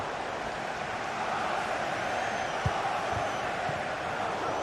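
Stadium crowd in a football video game, a steady, fairly low roar of massed cheering that holds evenly throughout, with a few soft thumps underneath.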